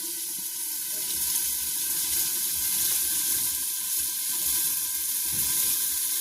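Mustard oil sizzles steadily in a frying pan during village-style home cooking, a continuous bright hiss with faint low stirring scrapes, close and unbroken throughout.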